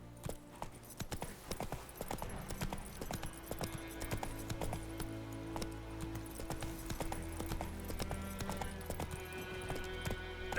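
Roach the horse galloping in The Witcher 3, rapid rhythmic hoofbeats clopping steadily and close throughout over a low game ambience, with a brief whinny-like sound.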